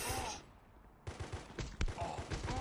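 Gunfire in the mobile shooter Guns of Boom comes as rapid bursts of muffled shots, fairly close and of moderate loudness, with a brief lull in the middle.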